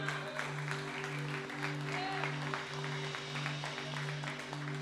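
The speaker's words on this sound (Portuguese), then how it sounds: "Dê uma salva de palmas ao Senhor." Clapping rises from a church congregation during a worship service, dense and steady over a sustained keyboard chord, with some voices mixed in.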